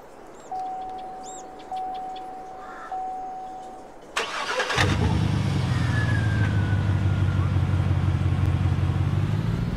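A Dodge Ram pickup's engine cranks and catches in Farming Simulator 22, after a few short tonal beeps, then settles into a steady loud idle.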